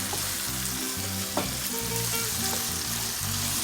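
Beef broth being stirred into browned beef in a pan, with a steady close sizzle and frying crackle and a scraping stir throughout, loud with no talk.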